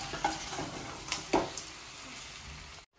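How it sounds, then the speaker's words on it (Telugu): Chicken fries in a pan with a soft, steady sizzle, broken by a few louder stirring scrapes and clinks, before cutting off abruptly near the end. "ఇంకా ఇంకొక 10 నిమిషాలండి ఫ్రై చేయాలి"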